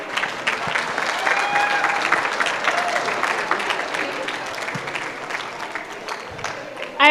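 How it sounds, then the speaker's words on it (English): Steady applause from a crowd at a 4-H show in St. Paul, Alberta, many hands clapping continuously and fairly loud, with scattered voices and a few faint tonal sounds mixed in before it swells at the end. "Let's give a big round of applause for these juniors"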